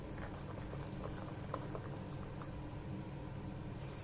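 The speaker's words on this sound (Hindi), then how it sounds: "अब देखिए बॉईल आ गया है इसमें हमारी ग्रेवी में" Drumstick flower gravy bubbles at a steady boil, a continuous dense patter of small pops and gurgles heard close and fairly quiet, with no talking.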